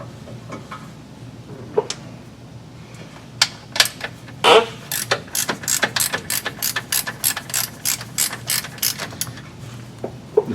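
Ratchet wrench with an 18mm socket turning a bolt during a driveline fluid service on a 2018 Duramax truck, giving a steady run of sharp, close clicks after a few scattered knocks.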